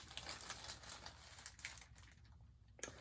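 Plastic mailing bag from a floss package being handled, with crinkly rustling bursts throughout and a sharper crackle near the end, close by with no talk.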